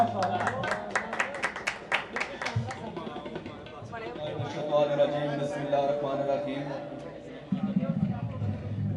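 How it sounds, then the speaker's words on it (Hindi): Audience applause at a ceremony breaks out as a guest speaker is introduced, a burst of rhythmic clapping for a few seconds before fading as a voice takes over and speaks at length. "आपकी तालियों की गूंज में राजा जाहिद आज़ाद साहब"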